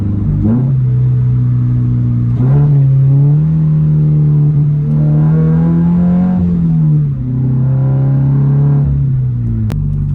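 A Subaru BRZ engine revs repeatedly through a Tomei catback exhaust, a loud steady idle drone swelling into several rising and falling revs, close by with no talking.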